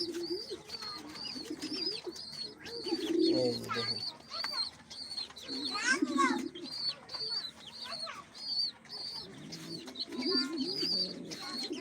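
Pigeons coo steadily and softly, several birds overlapping in low throaty calls, with faint chirps and background noise.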